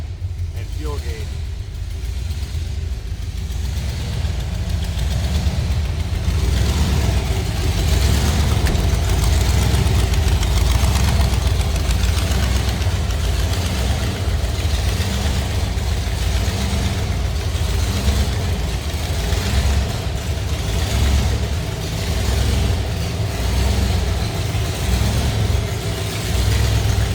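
A 1932 Ford Delivery street rod's engine idles loudly and steadily with a deep, rumbling low-end throb that stays continuous throughout, close by.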